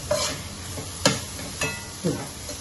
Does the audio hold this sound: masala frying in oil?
yes